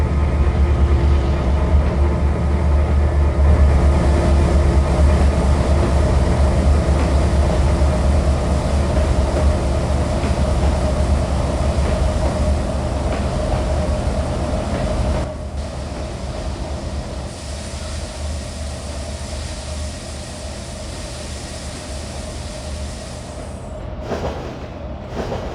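Shunter locomotive number 1501 accelerating in a train game: a continuous low engine rumble with a faint tonal drone, loud at first, then dropping to a quieter steady roll partway through, no talk.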